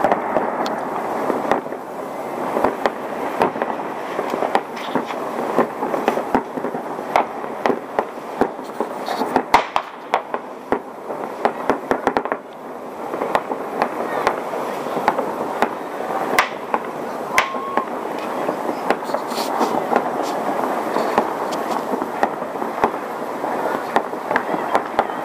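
Dense New Year fireworks display outdoors, a continuous barrage of crackling bursts and pops from many directions, loud and unbroken throughout, with faint voices in the background.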